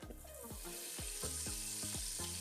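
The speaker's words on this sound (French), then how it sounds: "il faut saisir ça dans un petit peu de beurre" Peas and carrots sizzle in butter in a pan, a steady crackling hiss with quick popping bursts, close and fairly quiet.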